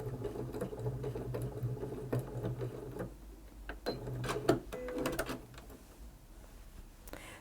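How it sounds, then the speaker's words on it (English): A sewing machine runs a reverse locking stitch on quilt binding, humming steadily for about three seconds, then stopping, followed by clicks, brief whirs and handling noises as the work is adjusted. "I'll do a reverse stitch or a locking stitch."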